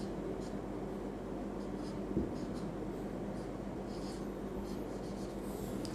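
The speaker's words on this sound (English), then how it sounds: "so we can draw a carrier molecule like this." Pen or marker scratches faintly across a surface while a carrier molecule diagram is drawn during a biology lesson, quiet intermittent strokes with one brief tap.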